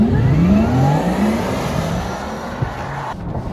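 A Porsche Taycan Cross Turismo 4S electric car accelerates with a smooth rising whine that climbs steadily in pitch, plus road and wind noise. The sound stays loud and close and fades slightly near the end.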